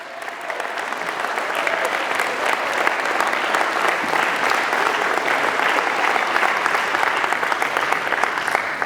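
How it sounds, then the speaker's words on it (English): An audience at a college baccalaureate service claps and applauds in a sustained, dense wave of hand clapping that holds steady for several seconds, with no speech over it. "you ought to stand up right now and give them a hand clap"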